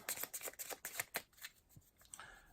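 Cards for the Cartographers board game being shuffled: quick riffling bursts of paper snaps, close and dry, tapering into softer shuffles toward the end with no voice.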